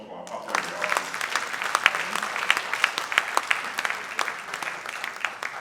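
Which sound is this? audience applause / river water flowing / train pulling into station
audience applause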